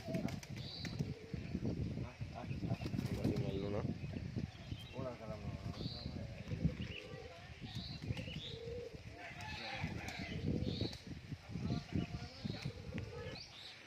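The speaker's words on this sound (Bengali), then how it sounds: "সব পায়রা এক একে আসছে দেখো" Giribaz flying pigeons returning home during a flying game, with bursts of flapping wings, soft cooing and chirps over a rooftop scene while people talk throughout.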